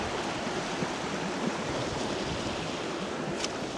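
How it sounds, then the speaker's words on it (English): A torrent of rushing water on rainy Dartmoor roars continuously, a dense, steady broadband wash that stays loud and unbroken with no voices over it. "this torrent of water"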